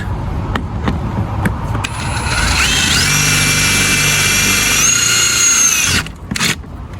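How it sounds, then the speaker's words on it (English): A power drill whines up to a steady high pitch as it bores into a metal weld on a small school bus, running for several seconds close by before stopping. "Let's see what happens once we drill those other 2 holes"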